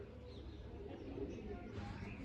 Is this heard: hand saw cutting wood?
no